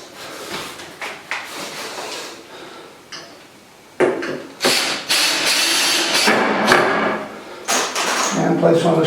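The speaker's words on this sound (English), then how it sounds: "Place one of my screws in there." A screw is driven into a wooden stand, with a quiet stretch of clicks and handling followed by loud, repeated bursts of mechanical grinding and ratcheting, close by and ending in choppy spurts.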